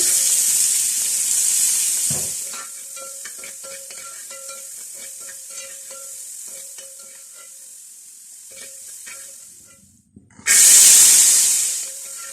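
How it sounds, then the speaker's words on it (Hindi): Mixed winter vegetables stir-fried in oil for vegetable pulao, with a steady sizzle and scattered scraping clicks of stirring, then a sudden loud hiss near the end. "तमाम सब्जियां सिर्फ 2-2 मिनट के लिए फ्राई करेंगे।"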